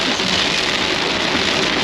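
Heavy rain pours steadily on a highway in China, a dense, loud, unbroken hiss with no pauses and no voices.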